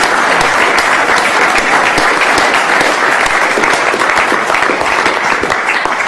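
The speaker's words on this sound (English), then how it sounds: "So shall we now give him a round of applause to thank him for this." Loud, continuous applause from an audience thanking a speaker after a talk, dense and even clapping sustained for about six seconds without any voices.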